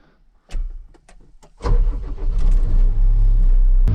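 A Case skid loader's engine cranks after a few clicks and taps, catches and settles into a loud, close idle rumble.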